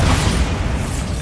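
Spell explosions from the Hogwarts Legacy game make a loud, sustained blast of rumbling noise that fills a short moment without a pause.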